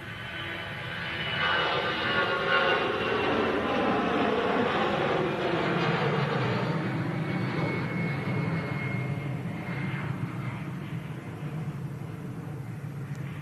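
A Lufthansa airliner takes off at Manchester Airport with a sustained jet roar that swells after the first second, holds strong through rotation and climb, then eases slightly as it departs.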